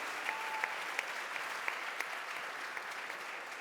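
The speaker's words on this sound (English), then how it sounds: "Let's give a round of applause for Lefteris and the team." Steady applause from an audience at a festival panel, fairly soft and evenly sustained with a few sharper claps standing out.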